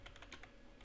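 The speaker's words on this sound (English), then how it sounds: "I'm typing localhost and administrator's email address" Quick, faint clicking of keys on a computer keyboard, a short run of light taps close by with no voices.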